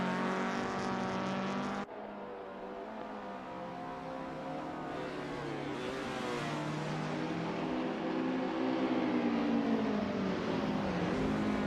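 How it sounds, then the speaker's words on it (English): Racing car engines in Assetto Corsa at Tsukuba Circuit in a 1000cc class, a continuous loud drone with shifting, rising revs as cars push on. "The rubber's burning, the crowd's yearning, and Lars's engine is churning to get past Renault 99."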